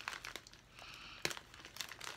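Paper packaging crinkles and rustles in short, irregular bursts as a piece of mail is opened indoors, with one sharper crackle midway; quiet and close, no voices.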